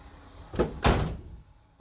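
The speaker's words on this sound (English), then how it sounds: "I love how these doors shut." A heavy door on a 1979 Ford F150 pickup swings and shuts with one solid, close thud, preceded by a softer latch click and followed by a short fading rattle.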